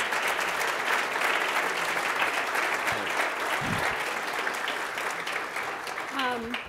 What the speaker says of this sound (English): I'll give a big round of applause